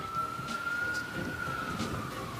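A distant ambulance siren wails in a steady, slowly falling tone over light traffic noise, faint and unbroken, with no voices.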